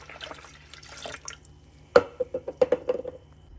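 Water splashes and trickles into a pitcher, with a burst of sharp droplet-like plinks near the end, close by and fairly quiet.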